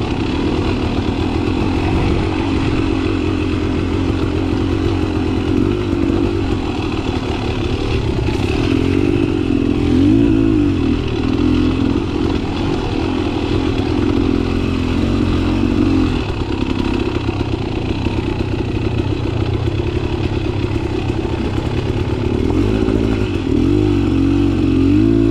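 A Beta Xtrainer 300 two-stroke dirt bike on a mountain off-road trail, its engine buzzing loud and close throughout with repeated throttle blips and revs, plus clatter from the rough ground.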